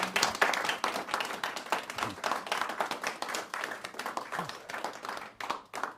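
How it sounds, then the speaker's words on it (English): An audience applauds speakers at the end of a panel discussion on American democracy, a lively, uneven clatter of many hands continuing for several seconds indoors. "let's give our speakers a good round of applause"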